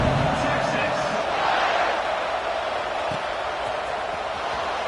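A football stadium crowd roaring after a scoring drive ahead of a kickoff, a dense, sustained wash of cheering and shouting that stays loud and steady throughout.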